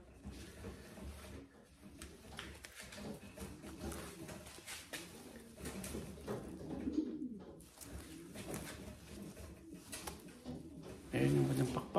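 A blue bar racing pigeon coos softly in a loft under steady talking from a nearby voice, with handling noises and rustling throughout and a slightly louder coo near the end.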